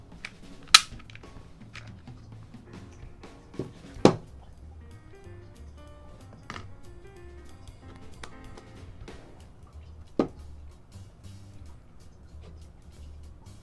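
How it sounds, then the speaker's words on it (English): A Glock 17 Gen 5 MOS pistol being disassembled, its slide coming off: a few sharp, isolated metallic clicks and snaps spread over a quiet stretch, close by, with faint handling noise between them. "For easy installation, I'll remove the slide from the gun."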